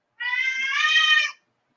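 A pet cat gives one long, loud, close meow lasting about a second, drawn out and slightly rising, in an otherwise quiet indoor room.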